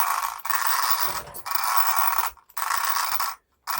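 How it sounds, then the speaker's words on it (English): Arrma Typhon 6S RC car motor cogging as the drivetrain is turned, a close mechanical ratcheting clatter in bursts with short silent gaps between them, notching from magnet to magnet through the gears. "The magnets in the motor are so strong. They're literally holding every notch that magnet gets to the next one."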